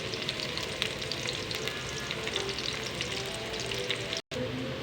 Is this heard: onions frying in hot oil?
yes